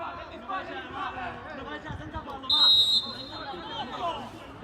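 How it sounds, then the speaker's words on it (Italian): A referee's whistle blows once in a single sharp, piercing blast at an amateur football match in Sicily, cutting through the crowd chatter and commentary of the live broadcast. "Fischio dell'arbitro."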